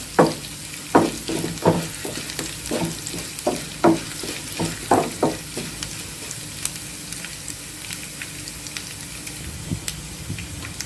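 Tempering spices fry in hot oil in a pan for a raw banana fry, popping and crackling in close bursts at first, then settling into a softer, steady sizzle.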